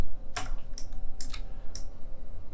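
A computer keyboard gives about five crisp key presses, close and fairly loud, in a loose uneven rhythm over low steady room hum, with no talking.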